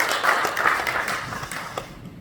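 A congregation claps during a Korean church thanksgiving service, a short burst of applause that fades quickly to quiet, with a little talk mixed in.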